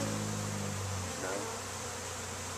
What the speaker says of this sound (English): Hey, there's a bee on the camera.